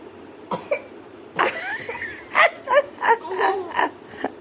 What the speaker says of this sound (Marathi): नाटकी खोकला आता